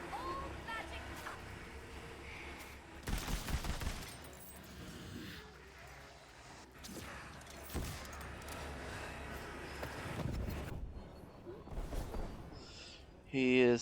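Weapon fire from the Tiny Tina's Wonderlands video game aimed at the Skelly Wastard boss, heard as scattered sharp bursts and short volleys of varying loudness, with a final loud blast near the end amid game ambience and a talking voice.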